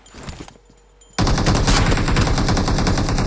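Automatic gunfire in PUBG Mobile bursts in suddenly after a second of near silence, then rattles on as loud, dense, rapid shots through the rest of the moment.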